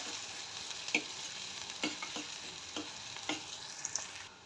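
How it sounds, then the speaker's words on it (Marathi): Finely chopped onion sizzles steadily in hot oil in a pan, with a spoon stirring and scraping at irregular intervals, close and fairly quiet. "हा बारीक चिरलेला कांदा छान असा कांदा लालसर होईपर्यंत असा परतून घ्यायचा"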